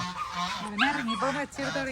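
Geese honk repeatedly at close range near a dog kennel, a run of loud, nasal calls overlapping one another in quick succession.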